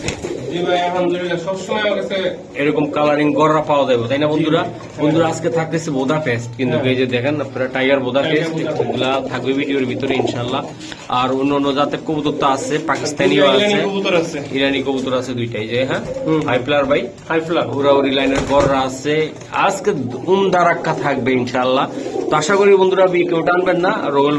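Pigeons, including Pakistani teddy and red gorra breeds for sale, coo steadily throughout, partly buried under continuous loud talking close by.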